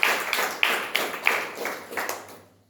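A small group claps for an honoured guest at a gathering, a handful of distinct, fairly close hand claps in an uneven rhythm that fade out after about two seconds.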